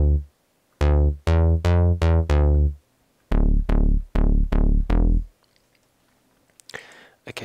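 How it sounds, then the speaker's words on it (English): A clean bass synth patch built in Native Instruments Massive plays a short run of loud, harmonically rich notes, then a second phrase of four more after a brief pause, each with a fast decay and no voice over it. "today we're going to be making a clean bass that sounds like this."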